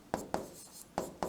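Chalk or pen strokes on a board during an economics lesson, four short scratchy taps spaced irregularly, fairly close and quiet with no talking.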